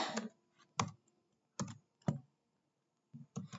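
Several separate bursts of keystrokes on a computer keyboard while a network command is entered, with short pauses between quick clusters of clicks, close and fairly quiet.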